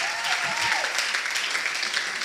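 A church congregation applauds and cheers the Lord, a dense, steady wash of clapping from many hands filling the room, with a voice briefly rising over it at the start.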